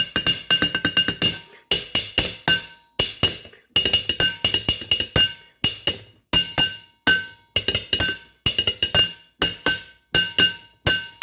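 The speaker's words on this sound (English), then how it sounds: "I also have these like super thick Pyrex glass things too, and they make cool sounds" Thick Pyrex glass dishes tapped like little drums, a steady run of bright ringing clinks in quick rhythmic clusters with short pauses between, loud and close with no talking.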